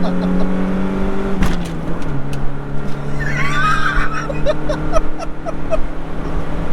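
Ford Capri race car pulling hard in first gear, its engine tone climbing steadily, then a sharp shift-like break before revving up again, loud and close from inside the cabin, with faint squeaks and rattles.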